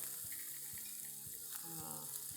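Breadcrumb-coated onions fry in hot oil with a steady, soft sizzle and crackle, faint and continuous with no voices.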